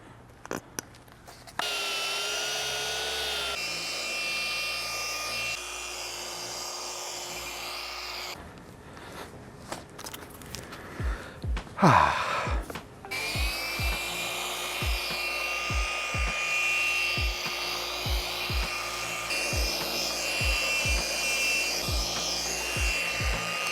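A cordless polisher with a soft black pad works wax across a car's paint, giving a steady mechanical whir with rhythmic thumps as the pad passes, close and continuous, after some rubbing and handling.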